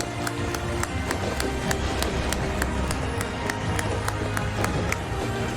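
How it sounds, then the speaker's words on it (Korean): A church congregation claps together at a New Year's Eve service right after a countdown, a dense, steady burst of many hands filling the room continuously from start to end. "우리 박수"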